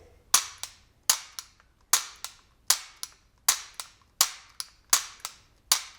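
Eight sharp metallic clicks in a steady rhythm from a Sig Sauer P229 pistol's double-action trigger pull and hammer, each followed by a softer second click, close and crisp with no voices.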